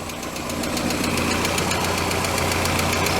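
A Volkswagen MK2 Scirocco engine idling cold before the thermostat opens, a steady loud rapid ticking rumble, close by and continuous with no voices.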